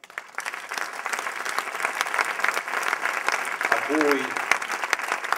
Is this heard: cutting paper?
no